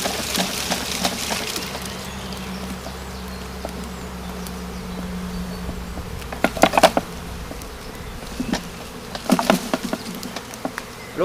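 A large honeybee swarm is being captured among brambles, giving a continuous close buzz of many bees with scattered rustles and knocks from handling, and no talking.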